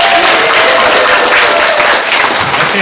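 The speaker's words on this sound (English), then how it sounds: "So let's practice our wild applause one time." A large audience bursts into wild, sustained applause at a school dedication night, a dense roar of clapping and cheering that holds steady and loud throughout without letup.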